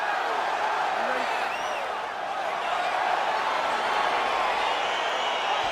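A stadium crowd in the EA Sports UFC 4 fighting game roars as a bout gets underway, a dense, steady wall of cheering that holds at a constant level throughout, with faint voices mixed in.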